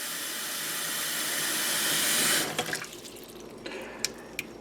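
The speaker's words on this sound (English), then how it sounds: "we're going to fill the sink up with some water" Tap water pouring into a kitchen sink fitted with a cracked Badger 100 garbage disposal, a steady hiss that swells for over two seconds. The flow then stops, leaving scattered faint drips and light clatter.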